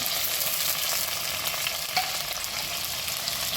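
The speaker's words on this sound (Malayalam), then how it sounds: "അപ്പോൾ നമ്മൾ കോവയ്ക്ക് ഒന്ന് വഴറ്റിയെടുക്കാനാണ് കേട്ടോ" Ivy gourd sautéed in a pan with garlic, shallots, tomato, green chilli and gamboge, giving a loud, dense, steady sizzle with faint stirring, close up and with no talking.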